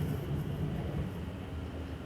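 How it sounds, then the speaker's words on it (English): A passenger train moves slowly near an air force base, heard from inside as a steady low rumble and rolling drone, constant and moderately loud, with no talk. "The train is moving."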